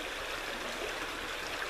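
Creek water flowing beside a tent platform building site, a steady, even broadband rush close by with no pauses and no talk.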